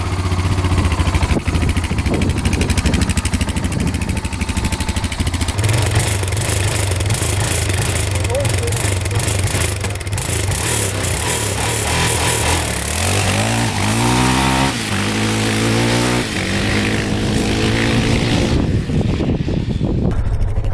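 Honda TRX700XX 700cc sport quad running close up, a steady engine note with rising and falling revs and pitch sweeps as the throttle is blipped, continuous and loud throughout.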